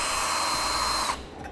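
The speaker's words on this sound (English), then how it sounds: "take a pilot drill bit and begin to drill those out." A close power drill with a pilot bit whirs at high speed drilling holes in metal on a 2014 Ford Edge, then winds down abruptly and goes quiet.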